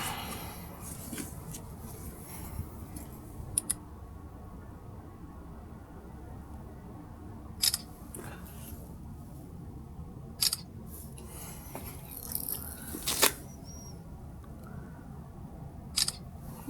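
Several short, crisp camera shutter clicks from a phone photographing a truck trailer's number, spaced irregularly over a steady low rumble of an idling truck.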